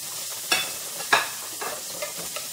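Garlic sizzling in a hot pan, a steady frying hiss broken by a few sharp stirring scrapes and bursts, close up with no talk.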